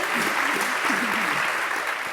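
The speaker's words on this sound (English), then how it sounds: "Please, a large round of applause to our guests here today." An audience at an expert panel on health equity in clinical trials gives the guests a warm round of applause, dense steady clapping filling the whole short moment.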